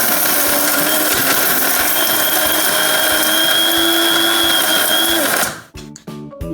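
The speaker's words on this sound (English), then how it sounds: "They are going to grind our roasted spices in our coffee grinder." An electric coffee grinder whirs loudly and steadily as it crushes roasted spices in a kitchen, running close by for several seconds before cutting off abruptly into a few faint clicks and handling noises.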